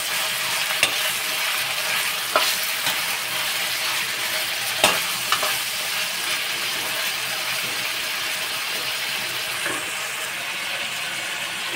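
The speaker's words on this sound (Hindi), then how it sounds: "अब इसको फ्राई होने के लिए छोड़ देते हैं।" Kashmiri kanti frying in a pan, with a steady broadband sizzle throughout and a few sharp clinks and scrapes of stirring scattered over it. No one speaks.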